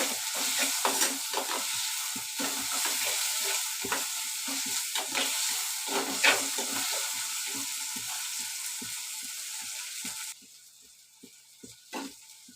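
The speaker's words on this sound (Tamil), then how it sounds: "நல்லா வெங்காயம் தக்காளி சூப்பராக வதங்கிடுச்சு" Onions and tomatoes sautéing in a pan for a home-style crab gravy, a steady sizzle with repeated scraping stirs of a spoon, close up, the frying dropping away near the end with a few last stirs.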